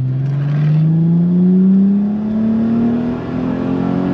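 A German sports coupe with a 218-horsepower engine accelerates hard at full throttle. The engine note climbs steadily in pitch as revs build, loud and close, with no talking.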